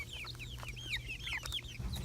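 Young chickens about six weeks old making rapid, high chirping clucks and peeps, many overlapping calls throughout, close by over a low steady rumble.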